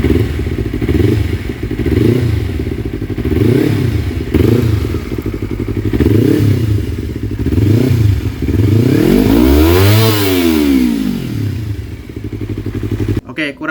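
A Yamaha MT25 fitted with an RX3 aftermarket exhaust and its dB killer removed revs repeatedly up and down, loud and close, with a deep booming note and a big sweeping rev near the end before cutting off.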